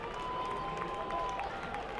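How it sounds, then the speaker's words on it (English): Baseball crowd in the stands applauds a solo home run, a steady wash of clapping and cheering filling the ballpark at moderate distance, with a faint voice over it. "They're on their feet applauding."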